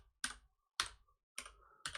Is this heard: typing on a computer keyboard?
yes